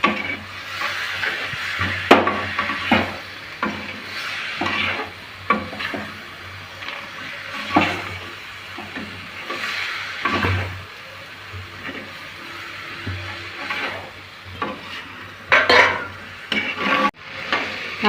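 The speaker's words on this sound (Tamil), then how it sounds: "வேர்க்கடலையும் போட்டு நல்லா கலரி விட்டுக்கணும்" Peanuts being stirred as they fry in a pan, with steady close scraping and tapping of the spoon, soft sizzling underneath, and a continuous low hum throughout.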